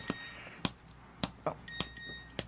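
A phone's text message notification sounds as a few short, thin electronic beeps, spaced irregularly over soft background noise and some clicks.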